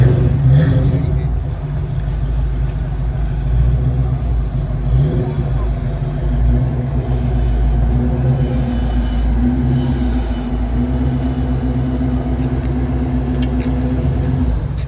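Low engine rumble at a car meet, consistent with a Fox Body Mustang idling and revving, steady and fairly loud throughout with crowd chatter and voices over it.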